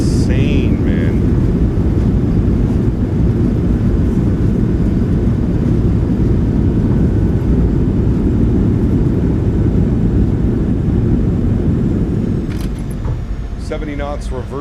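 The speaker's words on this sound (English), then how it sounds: "Reversers are out. Decelerating." Thrust reversers on a PMDG 737-700 in Microsoft Flight Simulator 2024 give a loud, steady broadband roar through the landing rollout, easing slightly near the end as a brief voice cuts in.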